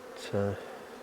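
Honeybees in a hive on a farm in April give one short, close buzz that swells and cuts off after about a quarter second, over a quiet background.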